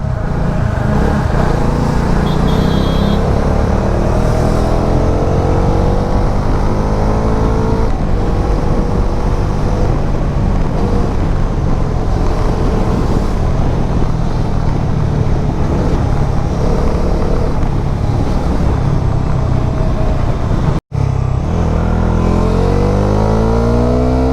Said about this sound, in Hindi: आप सिर्फ इंजन का साउंड सुनेंगे और पावर को फील कीजिए सभी गियर शिफ्टिंग्स के साथ